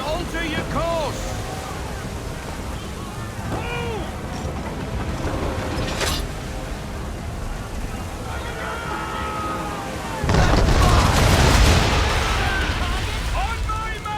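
Ship cannons fire a broadside from a sailing warship at sea in Assassin's Creed 3. Constant wind and surging waves carry shouted crew voices, then a sharp shot and, near the end, a loud rumbling barrage.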